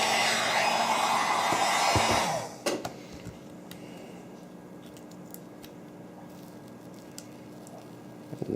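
A heat gun blows a loud, steady broadband rush of hot air over the adhesive on an iPad 2 flex cable for about two seconds, then cuts off. Faint small handling clicks and rustles follow in a quiet room.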